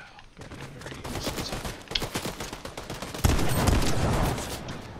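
Rapid gunfire in a Fortnite match, a dense burst of shots that swells louder partway through, with faint talk beneath.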